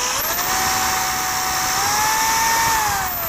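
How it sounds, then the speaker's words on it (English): A power drill bores a hole through wood for a DIY desk caddy, giving a close, continuous high whine whose pitch climbs slightly as the bit cuts, with no talking. "I'm going to go through this one again to ensure that the hole goes all the way through."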